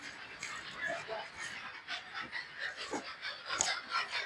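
A dog pants close by in quick, rhythmic breaths that come as short airy bursts, steady for a few seconds with faint background noise.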